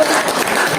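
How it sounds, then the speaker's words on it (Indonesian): A school workshop audience at a madrasah gives a brief, loud burst of clapping, dense and unbroken for under a second. "Ya, tepuk tangan yang meriah"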